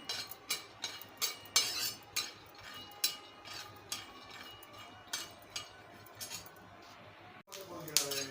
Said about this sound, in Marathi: हे मूठभर मी शेंगदाणे घेतलेले आहेत ते आता भाजून घेते शेंगदाणे व्यवस्थित भाजून घ्यायचे पहिल्यांदा